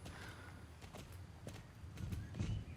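Horse hooves clip-clopping in a crime-themed video game, a quiet irregular run of hoofbeats on a hard surface, fairly faint and steady over a few seconds.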